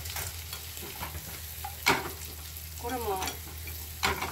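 Snap peas stir-frying in butter in a home kitchen give a steady close sizzle with a sharp clatter near the middle and another toward the end, while a voice speaks briefly.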